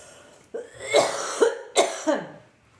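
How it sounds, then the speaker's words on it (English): Several sharp coughs, close and fairly loud, in a short burst of about four hacks with brief pauses between them. "Sorry, I don't know why I'm coughing."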